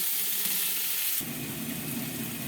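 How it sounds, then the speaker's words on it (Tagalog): Ground meat (giniling) sautéing in a pan with garlic, a steady close sizzle and hiss that drops to a lower, denser frying crackle partway through. "gisa-gisa tayo ng giniling"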